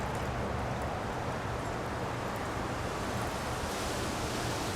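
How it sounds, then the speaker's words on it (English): One liter of water poured steadily into a plastic container of steel-etching solution, a continuous broadband rushing and splashing that holds at an even level for several seconds with no talk. "Now I'm going to add 1 liter of water"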